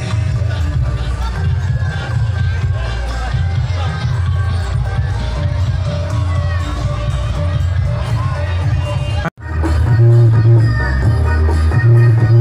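Audience at an outdoor street carnival in Sukorejo, Blitar, applauding and cheering a performing group, a loud continuous crowd roar with shouts and hubbub over stage music, briefly cutting out before resuming.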